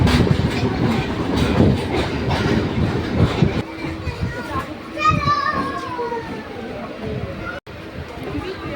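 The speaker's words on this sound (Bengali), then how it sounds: "আমাদের ট্রেন এখানেই দাঁড়িয়ে যাবে" A train rumbles and clatters along the rails between Khidirpur and Majerhat stations in Kolkata, loud and steady, with children's voices and chatter over it before the noise eases.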